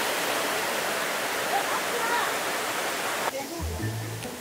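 The Thác Mây waterfall in Thanh Hóa pours down in a loud, steady roar of rushing water. Near the end the roar cuts abruptly to a quieter background with faint low tones.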